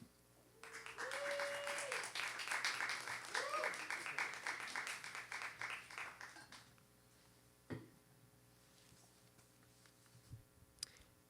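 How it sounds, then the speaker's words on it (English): Warm audience applause at a community conference: many hands clap for about six seconds with a brief tonal voice-like sound over it, then the clapping dies away into near quiet with a few scattered clicks. "Please, a big clap for them."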